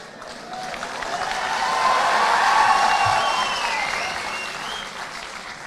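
Loud, sustained crowd applause at a political rally in Shimla, swelling to a peak midway and easing off slightly toward the end, with faint shouting mixed in.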